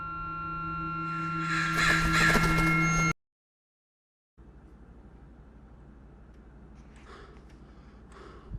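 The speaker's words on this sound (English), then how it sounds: "Bird." A crow-like bird caws in the video game The Lightkeeper over a flooded island. A loud, harsh call rises over dense game ambience, then cuts to a short silence before low wind-like background noise resumes.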